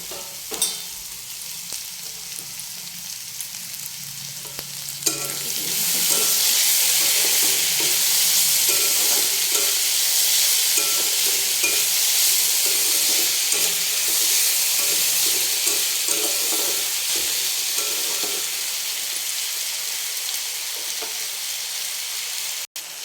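Potatoes and vegetables fry in a pan while being stirred, then tomato goes in; a clack is followed by a loud, steady sizzle that keeps up, with scraping stirs, until a sharp knock at the end.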